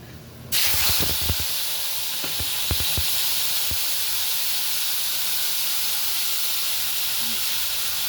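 Onion drops into hot oil with a sudden burst of loud sizzling, a few clattering taps as it goes in, then a steady hissing fry that stays strong to the end.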